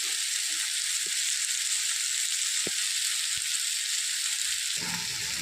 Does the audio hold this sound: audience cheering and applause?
no